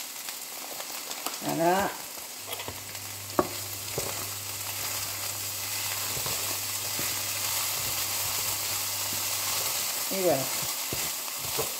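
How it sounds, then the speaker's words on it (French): A paella mixture with Mexico spice mix simmers and sizzles in a pan with a steady, soft crackle, a few utensil clinks and brief stirring, while someone speaks now and then. "Donc, on laisse mijoter tout ça pendant 4 minutes."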